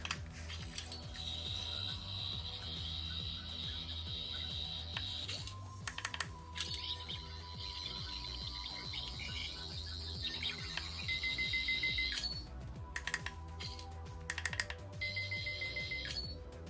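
A Fifteenth Doctor sonic screwdriver toy's electronic sound effects: high, warbling synthetic tones in three separate bursts, with brief pauses between them and no talking.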